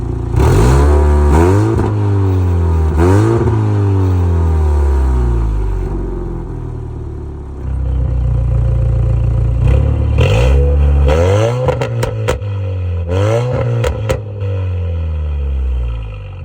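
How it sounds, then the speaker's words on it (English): Modified third-generation Lexus IS engine revving loudly up close, several rising and falling throttle sweeps followed by a burst of quick sharp blips with crackling pops near the end, with no talking. "I'll probably just rev it a little bit and then dip on out of here"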